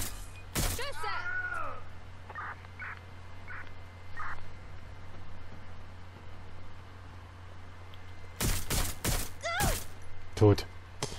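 Several sharp gunshots in the video game Watch Dogs: Legion, a single shot early and then a rapid cluster of cracks near the end, over a steady low hum, with a voice speaking briefly.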